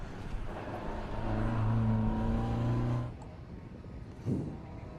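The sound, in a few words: 2-litre Ford Escort rally car engine revving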